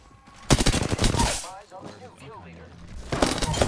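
Bursts of rapid automatic fire from an R-301 rifle in the battle royale game Apex Legends, loud and close, in two rapid volleys separated by a short gap in which a player talks.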